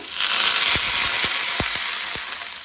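Fresh green peas and a little water going into fried onions for a Goan pea curry set off a loud, steady hiss with several sharp ticks and pops close by, and no talking.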